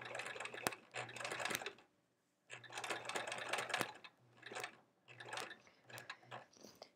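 A home sewing machine stitching quilt fabric runs in several bursts of rapid mechanical clatter with a steady whirring motor, stopping briefly between runs, close and fairly quiet with no talking.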